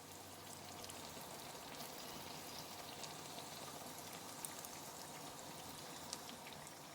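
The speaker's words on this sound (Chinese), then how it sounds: "这是我刚下入锅的油条，在这个快要炸好的油条的旁边对比一下，一定要不停的翻面" Youtiao, fried dough sticks, frying in hot oil: a steady, even crackling sizzle with fine bubbling pops, continuous and close throughout, with a few brighter pops standing out.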